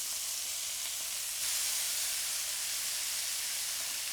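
Onions sautéing in butter in a hot pan give a steady, close sizzling hiss that swells a little louder partway through, with no talk over it.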